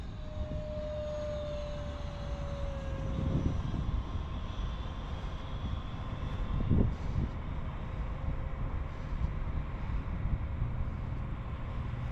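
An E-Flite F-15 Eagle EDF radio-controlled jet flies in to land, its ducted-fan whine steady and fairly distant, with brief louder swells as it passes, alone without talk.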